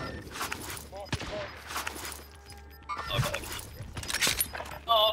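Dense bursts of rapid gunfire from a firefight in the video game Call of Duty Warzone crackle repeatedly across the clip, loud and close, with players talking over the shots.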